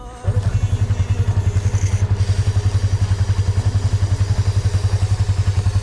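A loaded touring motorcycle pulls away from Ratlam, Madhya Pradesh, on a long ride toward Kishangarh, Rajasthan. The engine starts up close and loud, then settles into a steady, pulsing thump that continues without a break.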